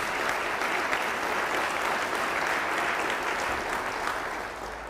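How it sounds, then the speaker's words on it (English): An audience at a Bexar County State of the County address applauds sheriff's deputies with steady, dense clapping that fills the whole stretch and tapers slightly at the end. "Let's give them a round of applause."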